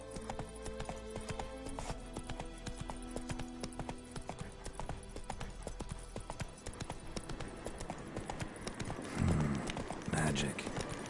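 The horse Roach gallops in The Witcher video game: quick, rhythmic hoofbeats drum steadily throughout, up close, under layered game sounds and voices, with a brief snort or whinny near the end.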